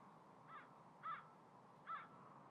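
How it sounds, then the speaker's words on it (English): A crow caws three times at uneven spacing, clear but fairly faint, over a quiet background hiss with no talking. "I heard a bird."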